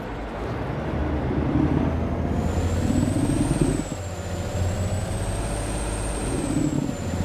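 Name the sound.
truck engine starting in Alaskan Truck Simulator video game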